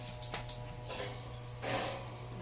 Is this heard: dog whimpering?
yes